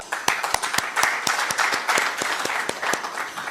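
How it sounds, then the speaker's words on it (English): An audience at a company's annual general meeting gives a round of applause to welcome a new division chairman. Many hands clap steadily, with crisp individual claps standing out from the crowd's continuous patter. "with a big round of applause"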